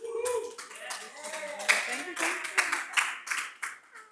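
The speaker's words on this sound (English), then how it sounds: "give Lena a hand clap, y'all" Scattered hand clapping from a small audience at a real estate development mastermind meeting, a handful of loose claps with voices chattering over them.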